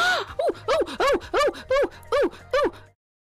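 A stream alert sound effect opens with a sharp vocal gasp, then seven evenly spaced, rising-and-falling "ooh" tones in a quick steady rhythm, close and clear, ending abruptly in silence.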